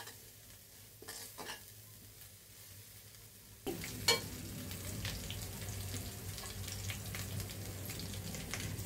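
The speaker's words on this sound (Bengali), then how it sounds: "এখন আমি তেলে মশলাটা ভাজা ভাজা করে নেব।" Spices for a fish curry frying in oil, quiet scraping and stirring at first, then a sudden louder sizzle that continues with steady crackle and occasional stirring scrapes.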